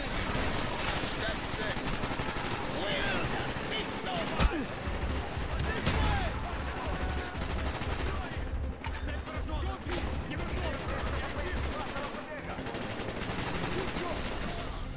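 Dense, continuous gunfire fills a Call of Duty Black Ops firefight, with rapid automatic bursts and sharp shots layered over one another at loud, close range and no letup, while a voice talks over the fighting.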